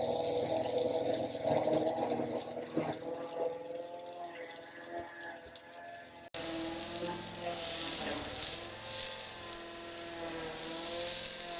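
A burger patty sizzles steadily on a hot griddle, a dense crackling hiss that grows louder and brighter partway through, with no talking.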